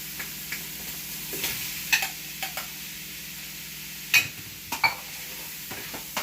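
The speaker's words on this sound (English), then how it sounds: "Let us stir it for a while, and when it becomes orange, we will add we're going to put the ham." Onion, garlic and shrimp sizzle softly in a pan while being stirred, with scattered clicks and scrapes of the utensil against the pan standing out from a low, steady frying hiss.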